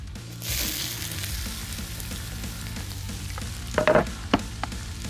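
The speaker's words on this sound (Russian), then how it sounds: "Лук и чеснок отправляем в сковороду." Onion and garlic hit hot oil in a frying pan, giving a steady close sizzle with a few sharp clatters of stirring near the end.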